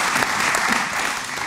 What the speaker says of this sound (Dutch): Geef haar een groot applaus.